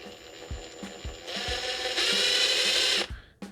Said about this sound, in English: This is the Ryobi 18 volts impact driver.